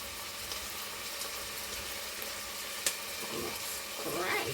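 Crushed garlic hitting hot coconut oil in a pot, a soft, steady sizzle with faint stirring and clinks, quiet and close.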